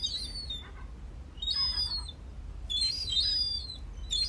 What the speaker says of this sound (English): the iconic sound of the Isle of Man, the herring gull, squawking, honking, call it what you will